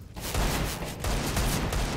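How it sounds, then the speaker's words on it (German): Desert Eagle pistol shots in a Counter-Strike match on the Dust II map, several sharp gunfire bursts in close succession at a fairly loud level. "dann doch irgendwie noch der Deagle-Shot von Adin Bisplattner rein"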